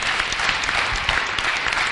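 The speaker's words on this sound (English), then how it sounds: "a huge, huge round of applause for David" An audience applauds a speaker at an InnerTalks event with sustained, fairly loud clapping from many hands and no talking.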